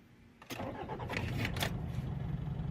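A Nissan X-Trail starter cranks and its engine catches, settling into a steady mid-pitched run close by.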